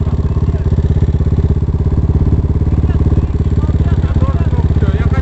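Motorcycles riding on a pond, with a steady, loud, close engine drone that has a rapid pulsing beat throughout and a faint voice underneath.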